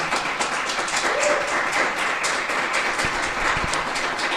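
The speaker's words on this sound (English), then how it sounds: "Can we get a round of applause to Nina?" An audience at a Small Business Week event in the Pikes Peak region claps, a broad continuous wash of hands filling the whole stretch at fairly even loudness, with no talk over it.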